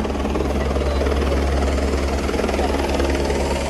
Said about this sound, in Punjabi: ਇੱਧਰ ਹੈਲੀਕਾਪਟਰ ਆ ਗਿਆ।